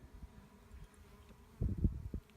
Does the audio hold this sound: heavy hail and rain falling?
no